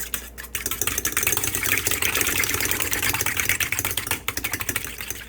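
A single egg beaten hard with a fork or whisk, giving fast, continuous, close clicking and tapping against the bowl that runs steadily for several seconds.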